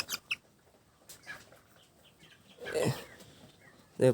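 A hen recovering from injury, missing one leg, on a farm, gives a few soft clucks early on, then a louder clucking burst near the end, with faint rustles between.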